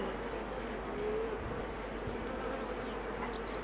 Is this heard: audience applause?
no